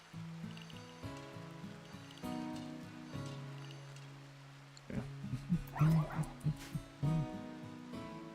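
Manhunter dogs barking amid a RimWorld colony raid, a run of short sharp yaps and whimpers in the second half rising over steady game music, moderately loud and fairly close.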